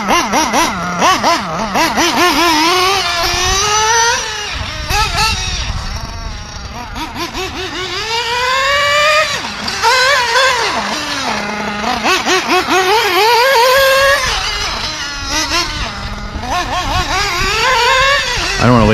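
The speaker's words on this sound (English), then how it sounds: "Still a new motor. We can go the high RPM just a little bit." ProTek RC Samurai .21 nitro engine on break-in, still running rich, revving hard and held at high RPM for a sustained, loud, whining stretch with rising and falling pitch sweeps.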